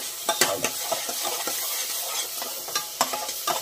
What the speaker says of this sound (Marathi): टमॅटो, मिरची शिजवून घेऊ पूर्णपणे